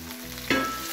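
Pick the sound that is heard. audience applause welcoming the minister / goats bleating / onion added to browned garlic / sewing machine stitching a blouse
onion added to browned garlic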